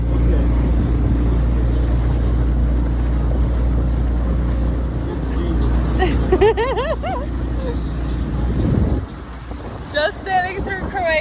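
A boat sailing off the coast of Croatia, its engine a loud, steady low drone with wind and water noise, cutting out near the end as chirpy voices and babble take over.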